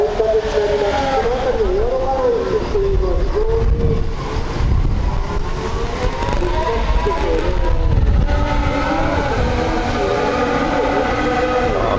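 A Formula 1 car during qualifying for the 2019 Japanese Grand Prix at Suzuka Circuit, heard from outside the track near an overpass: a distant engine whose pitch rises and falls as it passes, half buried under heavy wind rumble.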